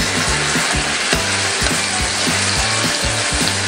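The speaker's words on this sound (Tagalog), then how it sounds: "Kaya more than 10 minutes ko nang piniprito itong ating pork at malambot na." Thin slices of marinated pork loin sizzle loudly in hot oil in a pan, a steady dense crackle with rhythmic stirring scrapes throughout and no voices.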